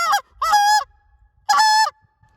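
A short reed Canada goose call blown as a spit moan, giving three sharp honking notes with gaps between them, loud and close, with no voices.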